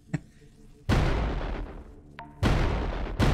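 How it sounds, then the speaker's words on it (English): Heavy booming explosions burst out three times in the VR game Hot Dogs, Horseshoes & Hand Grenades, loud and sudden, with a short sharp pop before the first. "that's enough explosions"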